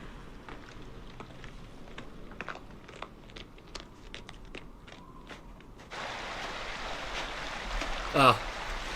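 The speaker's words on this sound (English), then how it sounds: "The sound of a babbling brook makes me want to babble." A babbling brook flows in a cold, snowy outdoor TV scene, heard as a steady broadband rush that swells in over the last few seconds, after a stretch of crunchy steps and faint voices.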